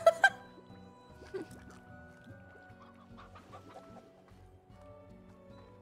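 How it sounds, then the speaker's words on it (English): Chickens cluck in the video game Slime Rancher, with a couple of loud squawks at the start, then softer scattered clucks and chirps over a quiet background. "Oh, there go the chickens."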